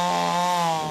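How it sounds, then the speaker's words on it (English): Chainsaw running steadily under load while clearing storm debris in the Adelaide Hills, a loud, close, sustained engine whine with a slight drop near the end. "The chainsaw's working overtime to clear the mess."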